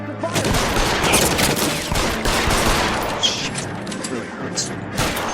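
Rapid bursts of gunfire crackle continuously in an L.A. Noire shootout, dense and loud with sharp cracks, while a voice speaks over the action.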